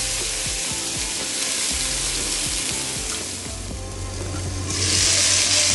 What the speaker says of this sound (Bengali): এখানে আলু ভাজি করছি, কয়েক টুকরো মিষ্টি কুমড়ো ছিল সেটাও দিয়ে দিয়েছি